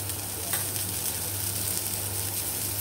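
Tomato and cluster beans with salt, turmeric and spices fry in a pan, a steady close sizzle with a brief stirring scrape near the start.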